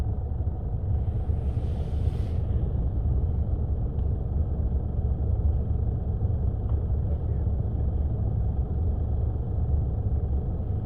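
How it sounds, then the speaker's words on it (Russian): Vehicle getting ready to pull a stuck car out on first ice in northern Yakutia, heard as a steady low engine rumble throughout at moderate distance, with a brief higher rushing noise early on. "Сейчас вот они вытащат, ну, думают, как подцепиться лучше, чтобы дернуть машину."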